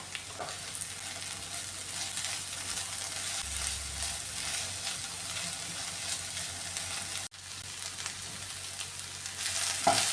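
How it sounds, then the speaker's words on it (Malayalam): Ivy gourd and carrot stir-frying in a pan, a soft continuous sizzle with occasional clicks and scrapes of stirring, one brief dropout partway through. "ഇനി ഇതൊന്ന് നന്നായിട്ടൊന്ന് ഫ്രൈ ആക്കി എടുക്കാമേ"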